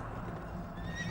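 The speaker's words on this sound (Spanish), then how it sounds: "Y vi aparecer un caballo negro, cuyo jinete tenía una balanza en la mano." A black horse neighs, a brief whinny rising out of a steady background rumble, moderately loud and heard alone without speech.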